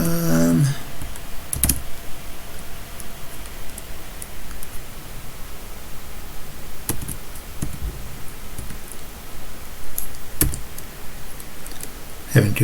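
Typing on a computer keyboard while writing code, a steady stream of soft clicks with a few sharper keystrokes standing out, close and fairly quiet over a faint hiss.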